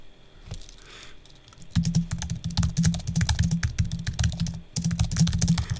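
Rapid typing on a computer keyboard, a steady patter of close, clicky keystrokes with brief pauses, the sound alone without voices.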